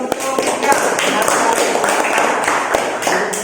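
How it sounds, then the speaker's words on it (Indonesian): A classroom audience gives a round of applause for a student named Cika, brisk dense clapping throughout with voices mixed in. "Tepuk tangan kembali untuk Cika"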